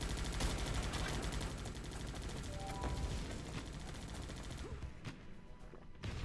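Mortar and gunfire in the video game Guns Up!, a dense continuous crackle of rapid shots with heavier thuds mixed in, loud and busy throughout without talk.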